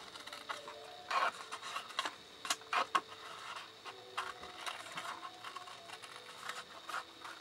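Scissors snip card along a score line, making quiet close-up crisp cuts in an irregular run of sharp snips.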